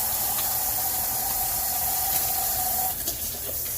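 Tap water running steadily over hands at a kitchen sink, a continuous broadband hiss that stays even for about three seconds before the flow shifts and breaks up near the end.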